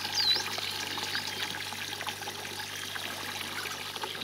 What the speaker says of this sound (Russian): Что-то вода слабовато бежит.